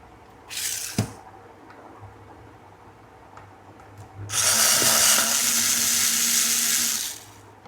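A power drill driving screws while repairing an IMPEX home theater unit: a short whirring burst, a sharp click, then a longer, louder steady whir, close by with no talk.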